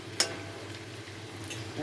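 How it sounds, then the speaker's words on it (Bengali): Potatoes fry slowly in a small amount of oil, a faint, steady sizzle close by with one sharp click near the start and soft crackles scattered through it. "আমি এটাকে আস্তে আস্তে একটু ধীরে ধীরে এটাকে ভেজে তুলে নেব আলুটা ভাজা হচ্ছে"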